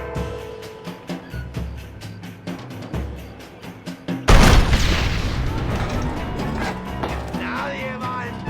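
In Red Dead Redemption, a heavy boom bursts in midway, followed by a sustained rumbling roar of cannon fire at a fort; rapid ticking and clicks precede it.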